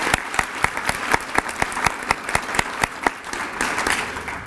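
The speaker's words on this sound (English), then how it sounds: "a round of applause for Chantel" An audience at a school district employees-of-the-year awards celebration claps for an honored teacher, a brief round of applause with sharp, evenly spaced claps standing out over a softer wash of hands.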